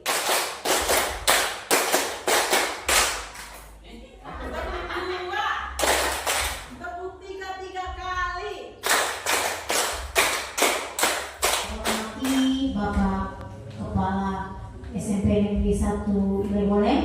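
Rhythmic group hand clapping at a school gathering at SMP Negeri 1 Ile Boleng, sharp bursts of many hands in counted sets with pauses between, while a speaker talks in the gaps and over the clapping.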